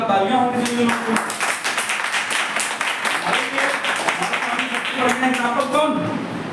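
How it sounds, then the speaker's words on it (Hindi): Applause from an audience at a DXN business meeting in Uttar Pradesh, a dense, steady patter of clapping that lasts the whole stretch, mixed with voices. "जोरदार तालियां होनी चाहिए लोगों को।"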